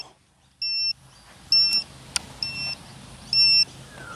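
Four high-pitched electronic warning beeps from a Kootai F05 Black Hawk RC helicopter repeat at a steady pace, each lasting a fraction of a second, with a sharp click between them over a low hum.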